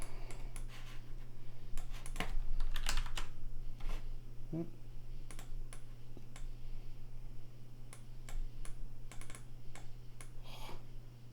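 Soft, irregular clicks of computer keyboard typing, mixed with mouse clicks, close and quiet over a steady low electrical hum, with a few scattered faint sounds in between.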